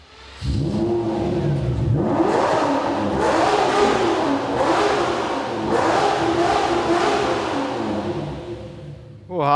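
A black Lamborghini V12 is revved repeatedly up close, several sharp rising throttle blips over a steady idle rumble, loud and prominent with little talk.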